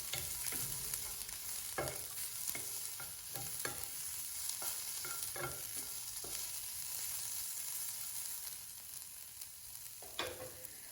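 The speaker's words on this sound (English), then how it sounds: "Go ahead and fry this in a low heat." Peppers and carrots frying in a pan on low heat, a quiet steady sizzle broken by a dozen or so crisp spatula scrapes and taps at irregular intervals, with no voices.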